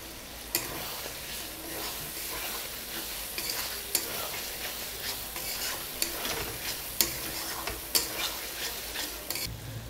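Tomato frying in spice paste in a pan for a raw fish bhapa recipe, a steady sizzle with a utensil stirring and scraping, several sharp clinks standing out, no speech.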